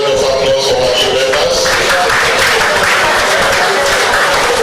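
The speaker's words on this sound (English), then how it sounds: "Can we give a round of applause for our new" A hall audience at an Administrative Officers Forum of the Ondo State Local Government Service applauds newly inducted members, with a dense, steady wash of clapping sustained at full volume for several seconds.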